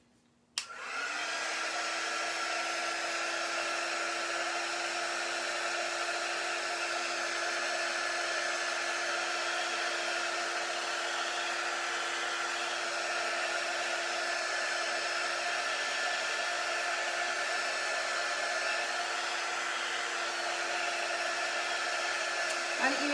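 A hair dryer runs steadily and loudly for the whole stretch, drying a layer of a beginner Celtic cross craft project with a constant, unbroken whoosh and no talking.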